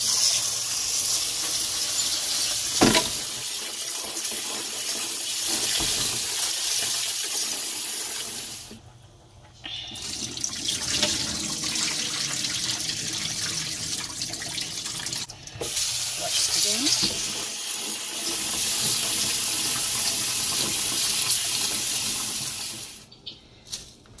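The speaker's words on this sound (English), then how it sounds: "Wash my rice." Rice is washed in water under a running kitchen tap for Jamaican rice and peas, a steady close hiss of flowing water with swishing and splashing, broken by a few short pauses where the tap stops.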